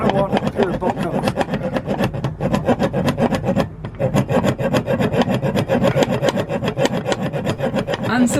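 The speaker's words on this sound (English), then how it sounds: "the saw had little impact, only tickling the lock" A hand saw rasping against a metal lock in steady back-and-forth strokes, close and loud, with one brief pause midway.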